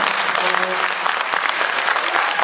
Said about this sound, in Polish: Naprawdę wielkie brawa dla nich.